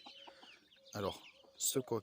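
A Pekin bantam rooster and hens cluck softly at close range in a few short bursts, with a louder squawky call near the end and faint voice-like sounds under the clucking.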